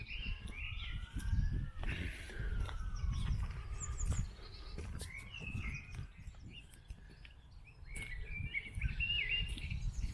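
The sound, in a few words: birds singing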